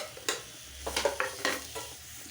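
Potatoes are stirred and sautéed with spices and garam masala in a pan, giving a few quick scraping stirs over a soft, steady sizzle.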